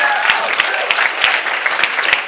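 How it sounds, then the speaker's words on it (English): Continuous applause from a room of attendees at a real estate sales coaching event, steady dense clapping with a few sharper, distinct claps standing out, sustained throughout. "Clap it up for everyone that is still in the room."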